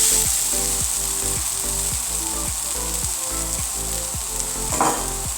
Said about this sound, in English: You just cook it on a low flame in a non-stick pan with a bit of coconut oil or olive oil.